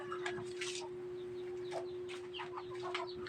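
Hens clucking in short, scattered bursts at a moderate distance, with a steady electrical hum running underneath.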